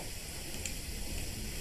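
Bean burger patties sizzle on a grill, a steady close hiss with faint crackle running unbroken throughout.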